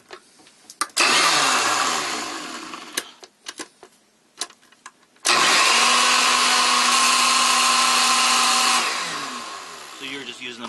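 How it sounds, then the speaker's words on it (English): An electric blender whirs loudly and steadily while mixing a homemade skin formula in a small 250 ml bottle, with a short burst, choppy stops and starts, then a long sustained run that tapers off. "I'm going to use this blender just for this demonstration"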